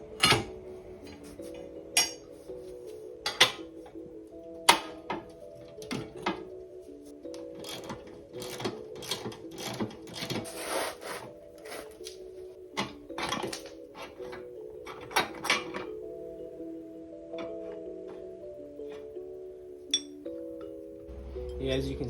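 A longer replacement axle goes onto a minibike with repeated metallic clinks, taps and clatters, sharp irregular hits close by, over a low steady background and occasional voice.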